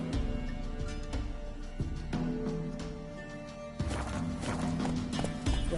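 Roach, Geralt's horse in The Witcher 3, gallops with quick rhythmic hoofbeats up close, backed by game ambience and music, with a couple of louder thuds and a brief whinny.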